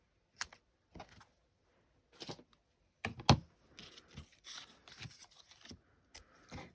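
Foam tape being snipped and handled in a quiet crafting space, with short sharp scissor cuts and crinkly tearing sounds in scattered bursts, near and fairly faint.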